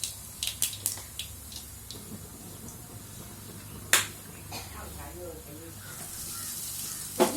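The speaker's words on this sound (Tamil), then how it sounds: "எண்ணெய் காஞ்சதுமே பார்த்திங்கன்னா கொஞ்சமாக வந்து கடுகு சேர்த்திக்கோங்க" Mustard seeds spluttering in hot oil for a cauliflower kulambu: a soft sizzle with sharp scattered pops and crackles, some close and loud, spread across the stretch and fuller toward the end.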